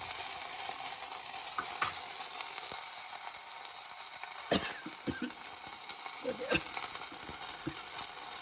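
Broad beans and tomato frying in a pan, giving a steady loud sizzle with scattered sharp clicks and pops from the pan throughout.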